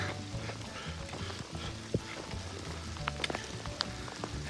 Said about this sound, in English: pretty good sized hail coming down now